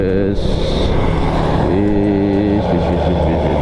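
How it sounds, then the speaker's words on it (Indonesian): Heavy bus being overtaken on the road, its deep engine rumble droning steadily and shifting in pitch partway through, loud and close, with wind noise and people talking over it. "Kita nyusul bis dulu nih guys."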